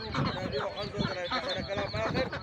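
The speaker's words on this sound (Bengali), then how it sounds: "এটা হলো চিনহাঁস আর এটা হলো রাজহাঁস" A crowd of geese and ducks, including Chinese geese, honk and quack continuously close by at a poultry market in Saudi Arabia, their calls overlapping in a noisy, clamoring chorus.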